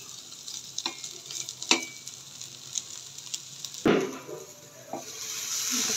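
Food fries in a pan, a close, continuous sizzle broken by stirring scrapes and a sharp utensil knock, and the hiss swells after it.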